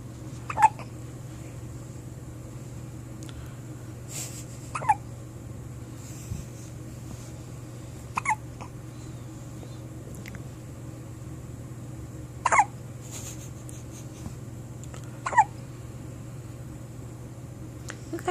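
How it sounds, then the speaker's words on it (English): Sharp, isolated hiccups from a baby's first bout, five or six brief bursts spaced a few seconds apart over a low steady room hum, fairly close and with no talk. "You got the hiccups? You want me to record you?"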